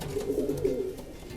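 A racing pigeon cooing close by, a short series of low throaty coos in a soft rhythmic run, with faint background noise and no talk.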